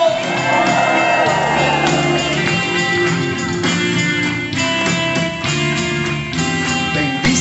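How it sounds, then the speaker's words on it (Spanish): A loud crowd at a church worship concert shouts, whoops and cheers together over ongoing music, voices rising and falling throughout. "Un aplauso y una bulla grande para Jesús, el Rey de Reyes, Señor de Señores."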